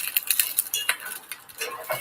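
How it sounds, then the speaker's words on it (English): Bell peppers stirred in a hot skillet: a steady crackly sizzle with quick metallic scrapes and clinks of the utensil against the pan, up close with no talking. "you can hear the peppers starting to sizzle a little bit. Just want to move them around a little bit"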